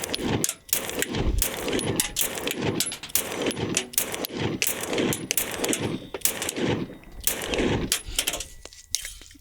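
Rapid string of pistol shots from an H&K VP9CC firing Fiocchi Target Max 115 grain ammunition, loud, sharp reports in quick succession with brief pauses between strings.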